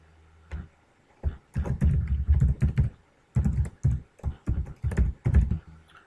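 A computer keyboard is typed on in close, distinct bursts of keystrokes, each run of rapid taps separated by brief pauses, as a reference number and ID are entered into a trading platform login.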